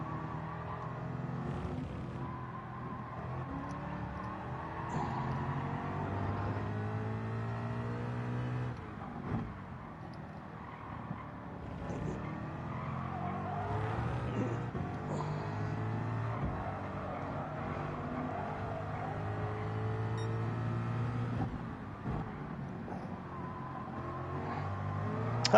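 Gr.3 racing car engines in Gran Turismo 7, including a Mercedes, droning and revving steadily for the whole stretch as gears rise and fall, with no gaps and no voices.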